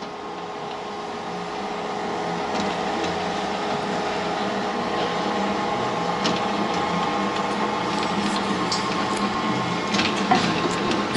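A YFM-107 auto slider painting machine with a 15 kg drum runs steadily, a continuous mechanical hum and whir with faint clicks and rattles, close and moderately loud with no talking.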